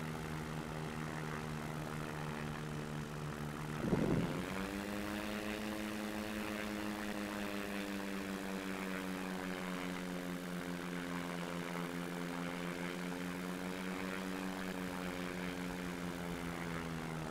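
A light aircraft engine runs steadily after being restarted in flight during practice engine failures, a strong droning propeller tone that briefly surges and dips near the start, then holds level and close for the rest.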